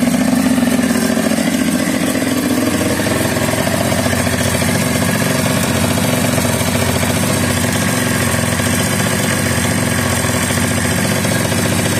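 A Yamaha Super Jog ZR or Honda Dio scooter engine idles steadily and close, a continuous rattling two-stroke putter with no break and no voices.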